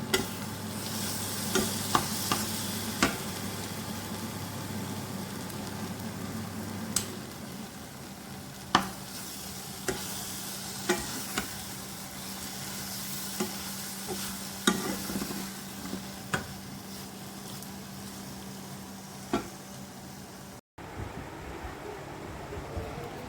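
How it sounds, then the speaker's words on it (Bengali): Grated raw mango pickle, made without oil, is stirred in a pan with ground spices, a soft sizzling hiss punctuated by repeated sharp scrapes and taps of the spoon against the pan. "সেটা আচারের ভিতরে দিয়ে দেব দিয়ে ভালো করে মিশিয়ে আমি নামিয়ে নেব"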